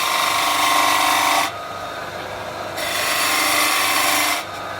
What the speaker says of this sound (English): I'm going to use peeling cuts to give the rough shape of each section